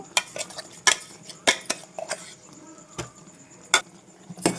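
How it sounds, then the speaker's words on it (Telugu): Metal spoon scraping and clinking against a pan as grated carrot is stirred into thick jaggery syrup, a series of sharp irregular knocks with soft scraping between them. "ఈ క్యారెట్ తురుము వేసుకున్న తర్వాత చక్కగా అంతా కలిసేలాగా చక్కగా ఇట్లా కలిపేసుకోవాలి"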